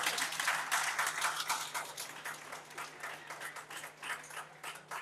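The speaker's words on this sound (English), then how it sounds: "And I think we should clap for Mama Maranja." Audience applause fills a hall at a speech event, steady and fairly loud clapping sustained throughout, rising slightly at the start and easing toward the end.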